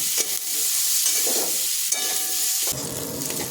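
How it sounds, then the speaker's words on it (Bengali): Onion and garlic fry in hot oil with a close, steady sizzle and crackle, and light stirring scrapes are heard under it with no speech. "পেঁয়াজ দেব একটু রসুন দেবো এগুলো একটু লাল লাল করে"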